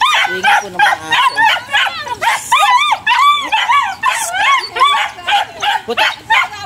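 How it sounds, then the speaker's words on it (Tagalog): Several dogs in a Philippine town bark, yip and whimper in rapid, overlapping bursts close by, loud and continuous, with a person's voice faintly mixed in. "Ingay po ng mga aso."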